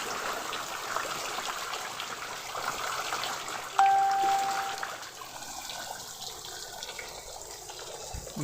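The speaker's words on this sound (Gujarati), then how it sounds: "કાલે પણ ફૂલ વરસાદ ચાલુ થઈ ગયો હતો આજે પણ ચાલુ જ છે" Heavy rain pours down outdoors in a village, a steady rushing hiss of water throughout that eases slightly toward the end.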